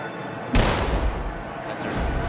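A military artillery gun fires its first shot of the morning, a single loud, sharp boom that erupts suddenly and is followed by a rumbling decay and outdoor noise.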